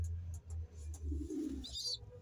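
Pigeons, young birds in a loft, cooing low and continuously in repeated soft rolling phrases, with a brief higher chirp near the end.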